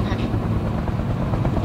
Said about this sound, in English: That, my friends, is the NTF helicopter.